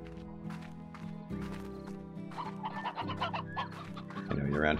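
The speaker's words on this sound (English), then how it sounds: "I know you're around here, chickens. Where are you?" Chickens clucking in the video game Slime Rancher, a busy run of short clucks and squawks over steady background music, growing louder toward the end.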